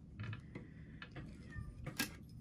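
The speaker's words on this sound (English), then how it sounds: "That's my cat. She's mad she can't come in here and mess up our video." A house cat meows faintly several times from another room, short muffled cries spread across a quiet space with light background noise.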